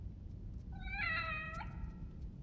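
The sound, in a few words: cat meowing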